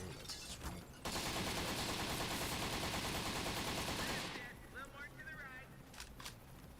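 Rapid video-game gunfire aimed at a creature's tail, a dense, loud burst of automatic shots lasting about three seconds, with quieter game sounds and a voice before and after.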